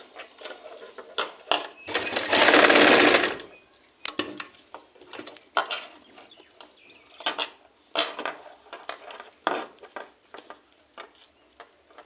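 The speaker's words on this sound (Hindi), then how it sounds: "अब इस तरह से कपड़ा को पकड़ते हुए हमें इस पेपर में सिलाई मारना है।" A sewing machine stitches fabric onto paper in one loud whirring burst of just over a second, set among quieter scattered clicks and handling noises nearby.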